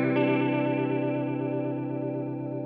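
An electric guitar chord rings through a Walrus Polychrome Flanger pedal, struck once and sustained with a swirling, shimmering sweep as it slowly decays, close and alone.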